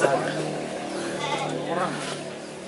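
A contest goat bleats in a long wavering call close by, with people talking around it.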